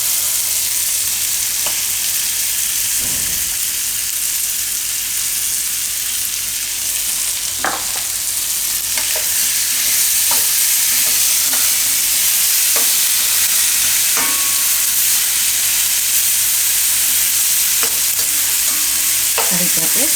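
Tomatoes with a little salt roasting and frying in a pan for tomato paneer, giving a loud continuous sizzle with scattered scraping stirs and clinks of the spatula over twenty seconds, close up with no talking.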